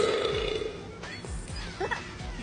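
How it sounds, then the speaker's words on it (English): A burp after a sip of a novelty burping soda, short and close, with low rumbling resonance and a quieter guttural tail. "A guaranteed 1 burp per sip."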